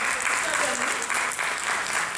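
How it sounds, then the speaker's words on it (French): A dense wash of applause from an audience at a regional youth event in Guadeloupe, continuous and loud, with voices faintly mixed in underneath. "Donc, franchement, applaudissez-le."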